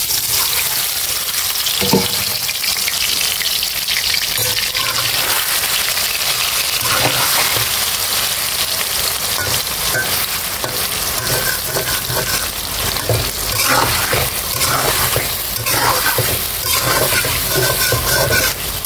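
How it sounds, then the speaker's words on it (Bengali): Chicken frying in oil in a wok, a steady loud sizzle with splashy, water-like hiss and occasional stirring scrapes throughout. "এখন চিকেনটা ভাজবো।"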